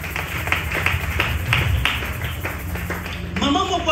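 A church congregation claps and cheers for the Lord, a dense run of hand claps and crowd noise at steady level, with a brief voice rising near the end.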